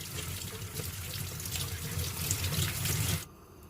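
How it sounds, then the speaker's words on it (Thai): Bananas are rinsed under a running kitchen tap to wash the peels clean. Water splashes steadily at close range for about three seconds, then cuts off abruptly. "ล้างให้สะอาดเนาะล้างเปลือกให้สะอาดนะ"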